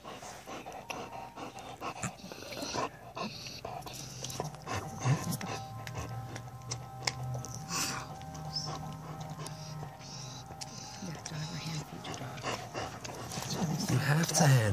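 A dog pants and whimpers steadily throughout, fairly close, mixed with ongoing talk and background noise that swells toward the end.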